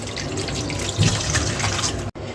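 Clams being washed under running water, a steady close splash and trickle of tap water with some rattling, cut short near the end.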